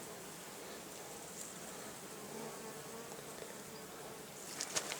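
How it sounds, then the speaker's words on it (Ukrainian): A steady, faint insect buzz of bees flying around log and Japanese-style hives at an apiary outdoors, continuous throughout, with a few brief louder flutters near the end. "бджолы летают"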